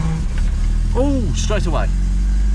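A carburettored car engine runs on full choke and revs up with a steady low drone, while a person talks over it in the foreground.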